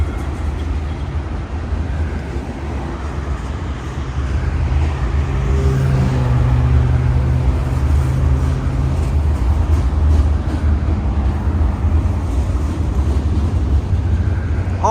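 A CN freight or passenger train passes along a Toronto-area line at night, a steady low rumble that swells after a few seconds and holds loud and continuous, with no talk over it.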